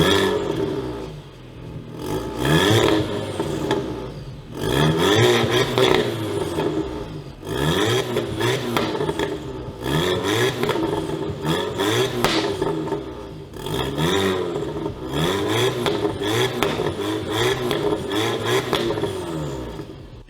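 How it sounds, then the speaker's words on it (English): An Audi TT engine cranks and catches, then revs up and down repeatedly in loud, surging waves, with a rough mechanical rasp throughout. "let's start this thing up, see if it sounds better"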